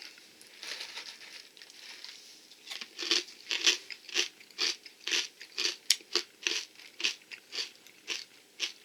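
Crunchy corn nuggets from an XMRE meal are chewed close up, with a steady series of sharp crunching bites in a regular rhythm and no talking.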